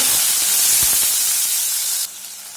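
Sliced onion, green chilies and a sprig of curry leaves sizzle loudly in hot oil with mustard seeds, cumin and chana dal, a dense steady hiss that drops off sharply near the end.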